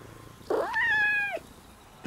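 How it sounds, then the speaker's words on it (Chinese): A kitten lets out a single clear meow that rises and then holds, close and distinct in an otherwise quiet scene. "小猫咪， 你是饿了吗？"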